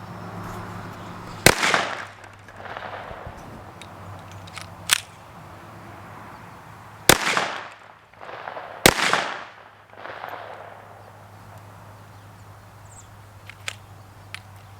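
KelTec PMR 30 pistol fired at targets outdoors, a handful of sharp, widely spaced shots with echoing tails over a low steady hum, plus a few fainter clicks.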